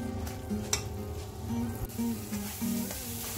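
Black carrot halwa cooks in a pan with a steady close sizzle and rhythmic scraping strokes of a spoon stirring the thick mixture, no voice heard.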